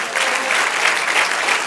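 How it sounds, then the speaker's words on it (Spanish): A church congregation applauds, a dense, steady patter of many hands clapping throughout. "Den un aplauso al Señor."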